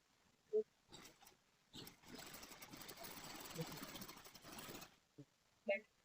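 Domestic sewing machine stitching a seam on an iron-pleated frock, a steady mechanical whirr running for about three seconds, bracketed by short clicks and handling noises before and after.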